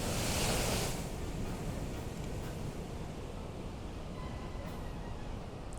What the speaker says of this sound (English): That's got a nice full bowl of water just pouring in there.